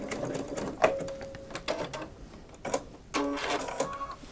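A sewing machine stitches a zigzag seam to close a tote bag, running in short whirring bursts with rhythmic needle clatter and brief pauses between runs.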